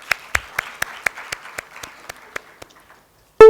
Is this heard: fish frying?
no